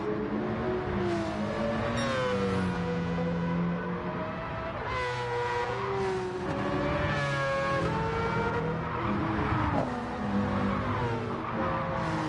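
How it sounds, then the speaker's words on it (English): A BMW race car engine in a racing video game howls through rising and falling revs and gear changes, loud and continuous, with tyre squeal mixed in and no talking. "BMW sounds pretty mean though, don't you think?"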